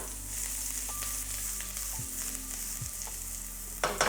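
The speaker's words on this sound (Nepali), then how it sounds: "गार्लिक चाहिँ मात्रै हामी अलि धेरै पकाउँछौँ" Garlic fries in hot oil in a pan for chips chilli, giving a steady, close sizzle with a low hum underneath and a brief stir-like clatter near the end.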